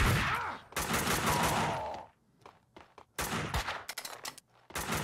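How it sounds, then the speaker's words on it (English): Gunfire in the video game Max Payne 2: loud, rapid bursts of shots close by, clustered volleys broken by short gaps and scattered single cracks, with no one speaking. "Is my dude shooting?"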